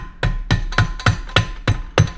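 A hammer butt knocks a rear support part into a transmission case during assembly of a Turbo Dakota RT, giving eight sharp, evenly spaced taps about a quarter second apart, close up with no talking.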